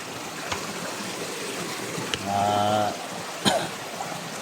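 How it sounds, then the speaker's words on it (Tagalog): A small stream runs through a bamboo-covered slope, giving a steady, moderately loud watery rush with a few sharp clicks and a brief low humming tone partway through. "Kung saan yung may maliit na sapa mga tol"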